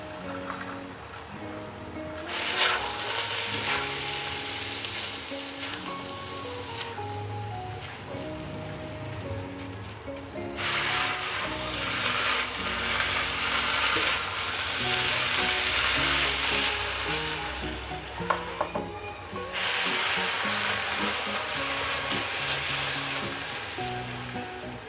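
Cabbage frying in a pan with corned beef and potato, a steady loud sizzle with bursts that swell and fade, over a faint tonal background.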